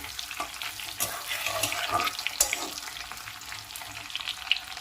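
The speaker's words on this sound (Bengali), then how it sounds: "হাই ফ্লেমে আলুগুলো ভেজে নিতে হবে।" Potatoes fry in hot oil over a high flame, a steady crackling sizzle with a few sharper pops and occasional stirring scrapes, close and fairly loud with no voices.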